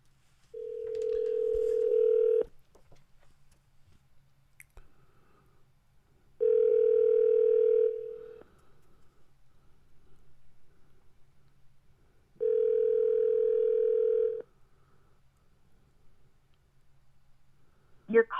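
An outgoing call placed through Alexa: three steady, even ringback tones, each about two seconds long and separated by quiet gaps of several seconds, heard close and clean with a faint hum underneath.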